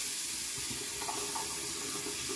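Warm tap water runs steadily into a sink, wetting a Clarisonic facial cleansing brush, a continuous close hiss and splash with slight gurgling variations and no talking.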